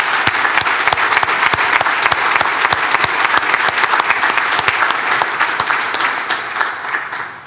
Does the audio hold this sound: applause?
yes